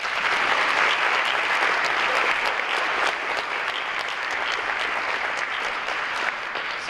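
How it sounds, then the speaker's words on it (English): An awards-ceremony audience applauds a graduating class in a steady, sustained wash of many hands clapping, even and fairly loud throughout with no talk over it. "Round of applause for the class."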